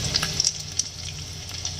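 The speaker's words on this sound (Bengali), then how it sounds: "এগুলো একটু ভাজা ভাজা হোক" Chopped green chillies and raisins frying in a pan for Dudheswar fried rice, a steady close sizzle with a few sharp crackling pops over a low hum.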